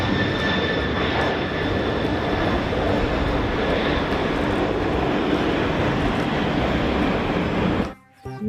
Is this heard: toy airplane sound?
yes